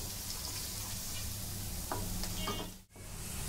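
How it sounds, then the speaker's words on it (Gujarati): Papad and poha dry-roast in a pan for chevda, giving a quiet, steady crackle and scrape throughout, with a few brief knocks of stirring and a short dip near the end. "બરાબર શેકાવા દેવાના છે એકદમ ડ્રાય થઈ જાય ત્યાં સુધી"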